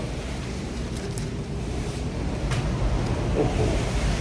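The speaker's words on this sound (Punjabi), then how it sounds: "ਬਹੁਤ ਤੇਜ਼ ਹਵਾ ਚੱਲ ਰਹੀ ਹੈ" Strong outdoor wind blusters continuously into a nearby microphone, a loud, rough, buffeting rush with occasional gusty thumps and no speech.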